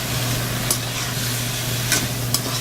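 Stir fry of vegetables with garlic salt and soy sauce sizzling steadily in a hot pan, a constant close frying hiss with a low hum and a few sharp clinks of a utensil stirring.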